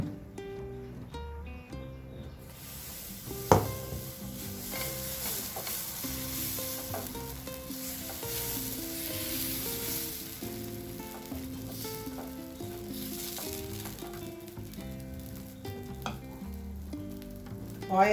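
Ragi dosa cooks on a hot pan with olive oil, giving a steady sizzle under clinks and scrapes of a utensil that come and go through a long stretch, with no talking.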